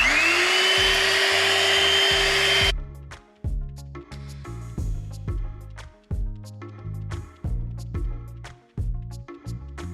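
An electric mixer whirs steadily for about three seconds while blending apple pie breakfast bake ingredients: vanilla extract and zero-calorie sweetener. It stops abruptly, and rhythmic music continues alone afterward.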